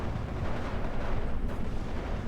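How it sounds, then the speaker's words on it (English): Grenade explosions in a strategy video game match, a continuous rumbling roar of blasts and debris at steady loudness with no voices. "They're going to get all wiped out by grenades and Faust, yeah."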